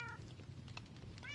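Cats meow inside a house in a video game world; a few short, fairly quiet meows rise and fall over a steady low background hum.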